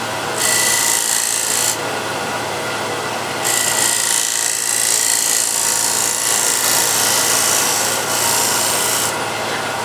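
A hand scraper is pulled across soft timber in repeated long strokes, giving close, loud, rasping scrapes separated by short pauses, with no speech.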